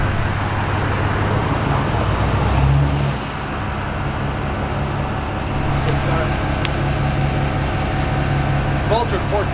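Engine of a newly bought truck rumbling, rising in a brief rev early on and then settling to a steady idle with traffic-like background noise, and people talking over it.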